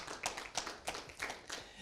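A church congregation claps at a sermon in a loose, uneven rhythm of about five or six bursts, faint and somewhat distant, with a little voice underneath.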